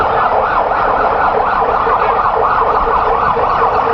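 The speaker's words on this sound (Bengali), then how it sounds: "আমরা দেখতে পাচ্ছি আইসিইউ অ্যাম্বুলেন্সও করে পাঠানো হচ্ছে" An ICU ambulance siren wails steadily and loudly at Osmani International Airport in Sylhet after a plane skidded off the runway and caught fire, its rising and falling tone continuous and close with no voices.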